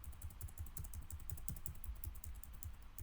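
Steady, quiet clatter of fingers typing on a computer keyboard, with a rapid, even run of light key clicks and no talking.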